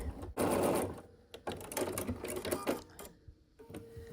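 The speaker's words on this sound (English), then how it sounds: "I have my 2 outer pieces sewn together." A sewing machine stitching quilt block pieces runs in short bursts of rapid mechanical whirring and clatter, stopping and restarting several times at close range.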